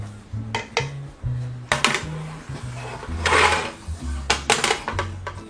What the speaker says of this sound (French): on va remettre la casserole sur le feu